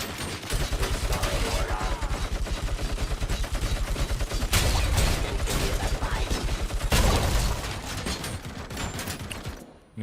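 Rapid pistol gunfire in the RoboCop: Rogue City video game, a dense stream of loud, close shots with heavier blasts and mechanical clatter layered over continuous game noise throughout.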